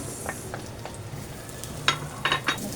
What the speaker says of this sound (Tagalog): Isa-pisain ko yung bawang sa mantika.